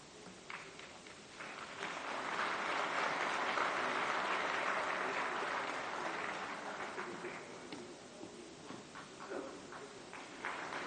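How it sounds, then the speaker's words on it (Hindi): Sustained audience applause welcoming the Law and Justice Minister at a commemorative event for Pandit Madan Mohan Malaviya's birth anniversary, a dense steady roar of many hands that swells in the middle and tapers slightly toward the end. "जोरदार तालियों से स्वागत, वंदन, अभिनंदन।"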